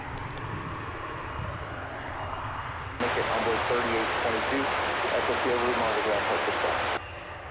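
A passenger airplane arriving at DFW Airport from Austin, Texas, a loud, steady jet roar that swells in suddenly and holds for several seconds before cutting off, with a voice faintly beneath it.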